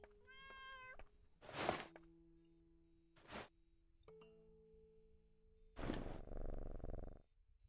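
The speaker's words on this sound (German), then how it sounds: "Für die arme kleine Katze." A cat in the horror video game Layers of Fear Inheritance meows several times, short clear calls spaced over a few seconds, alongside quiet game tones and a soft thud.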